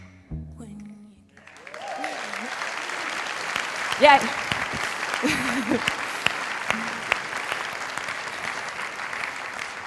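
A crowd claps loudly and continuously at a dance show after a second of a singing voice, with a sharp shout rising above the steady applause partway through.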